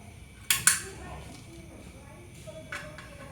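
A pot handled while rice is put on to cook: two sharp metallic clanks close together, then a lighter clink, amid quiet kitchen clatter with a voice talking softly.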